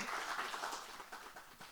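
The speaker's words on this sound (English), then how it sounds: "please round of applause for this esteemed panel joining us today" An audience applauding a panel at an engineering leadership forum in Bengaluru: a soft, steady wash of many hands clapping, fairly faint and distant, fading slightly toward the end.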